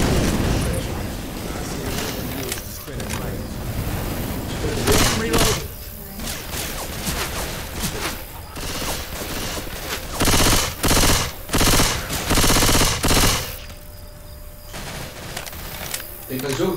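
Rapid gunfire and heavy booms from the Left 4 Dead 2 video game, with machine-gun bursts and thudding shots packed densely throughout, loud and continuous with brief lulls between volleys.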